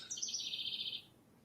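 Bird chirping outside a window: one quick, bright run of high chirps lasting about a second, fairly faint and heard alone.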